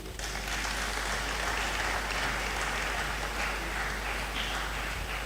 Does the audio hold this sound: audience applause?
yes